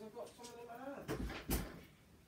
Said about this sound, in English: Why is he knocking at the door?